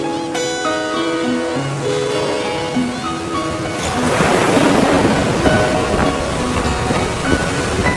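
Pacific surf rolls onto a young volcanic Galapagos coast, with a broad rushing wash that swells up midway and continues loud and steady under background music.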